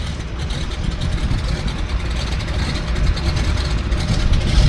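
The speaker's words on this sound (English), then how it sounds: "Love that sound of that round engine belching away." A floatplane's radial engine drones continuously with a steady, throaty, rough, pulsing low rumble, loud and close, with no voices over it.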